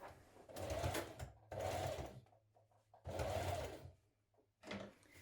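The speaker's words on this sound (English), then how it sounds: "We're now going to stitch across here to baste them in place" A sewing machine stitches across children's dungaree straps to baste them, running in three close, steady bursts of rapid whirring separated by short pauses, with a fourth burst starting at the end.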